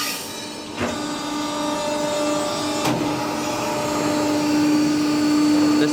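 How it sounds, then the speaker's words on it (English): A 300-ton, 3200 mm hydraulic press brake runs with its hydraulic pump and Siemens motor, giving a steady loud machine hum and whine with a couple of sharp clicks, continuous throughout. "The hydraulic pump."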